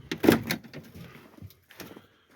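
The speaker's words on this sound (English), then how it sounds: "we're going to pull this door off." A door is pulled off a 1990s Ford F250 pickup truck, giving a sharp close metallic clunk and rattle followed by smaller knocks and scrapes that fade into quiet.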